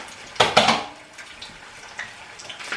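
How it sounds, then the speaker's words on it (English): Tofu pieces rinsed under a running kitchen tap: a couple of bright splashing bursts of water near the start, then quieter trickling and small clinks, close by. "I'm going to rinse this off a couple times."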